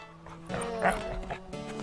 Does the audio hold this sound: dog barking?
yes